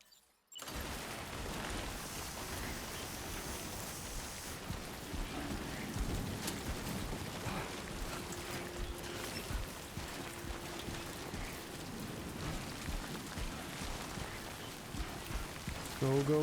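Steady, dense timefall rain from Death Stranding 2 pours continuously across the scene, a broad hiss with low rumbling undertones and occasional muffled game sounds.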